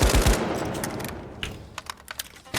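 An M60 machine gun fires in a video game. A loud burst of rapid shots opens, then scattered sharp clicks and shots follow more faintly.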